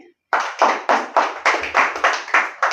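A steady run of hand claps, about ten sharp, evenly spaced claps in under three seconds, close and fairly loud.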